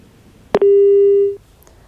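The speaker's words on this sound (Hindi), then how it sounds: "तकनीकी कारण की वजह से फोन लाइन कट चुका है" A single telephone busy tone sounds after a phone line drops mid-call, opening with a short click, then holding a steady pure beep for nearly a second before cutting off into quiet line hiss.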